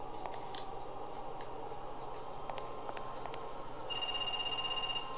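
A telephone rings in the Parasite Eve 2 video game, Acropolis Tower setting: faint tonal ring bursts over a low droning game ambience, with a steady electronic tone rising near the end and no speech.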